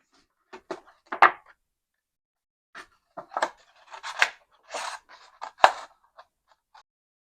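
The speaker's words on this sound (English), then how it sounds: "I'm just going to cut out this bunny shape." Scissors snip a bunny shape out of thin snack-box cardboard, sounding as a scattered series of short, close cuts and scrapes with brief pauses between them. No one speaks.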